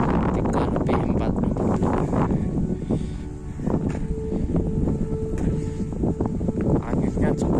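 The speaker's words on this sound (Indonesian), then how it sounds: "Anginnya cukup kencang." Strong wind on a mountain trail up Gunung Andong buffets the microphone in a steady loud rush, with rustling and footsteps mixed in as people talk.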